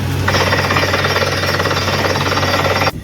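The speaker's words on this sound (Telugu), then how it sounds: "ఇక్కడ డ్రిల్ చేయిస్తున్నాము న్యూ హౌస్ కన్స్ట్రక్షన్లో" Borewell drilling rig working at a new house construction site, a loud, continuous rapid hammering clatter over a low engine drone that cuts off abruptly near the end.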